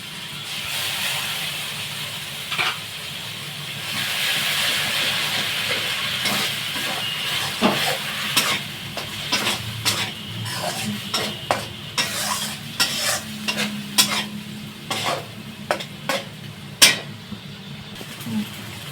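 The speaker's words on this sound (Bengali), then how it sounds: "এবার দিয়ে দিচ্ছি টমেটোর পেস্ট।" Tomato paste sizzles and hisses in a hot pan while being stirred, a steady frying hiss broken by repeated sharp scraping strokes of the spoon, close and moderately loud, no talking.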